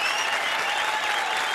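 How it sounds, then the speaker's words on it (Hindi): A studio audience at a televised comedy show bursts into loud, dense applause, a continuous roar of clapping that carries evenly through the whole moment. "जोरदार तालियां"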